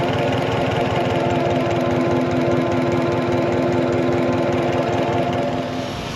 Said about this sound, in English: You can see the engine running here with the wheel turning in the background.